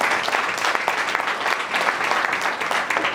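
A church congregation claps together in a continuous, dense round of applause, steady and moderately loud for the whole stretch with no voices standing out.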